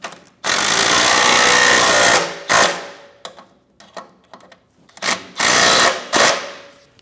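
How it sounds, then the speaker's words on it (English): A power tool driving and snugging bolts on the rear shock absorber mount of a 2010-2015 BMW X1 xDrive: one loud sustained whirring burst, then several shorter bursts and clicks, close up with no talking. "Get the bolts started and snug them down."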